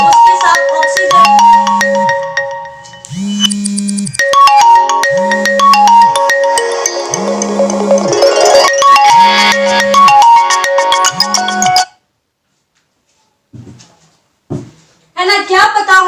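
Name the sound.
phone ringtone, incoming call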